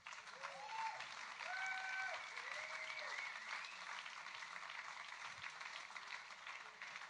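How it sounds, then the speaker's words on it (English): An audience applauds at a livestreamed event at the German Sport University Cologne, a steady, fairly faint patter of many hands that runs throughout, joined briefly early on by a few sliding musical tones. "Can you give him a round of applause,"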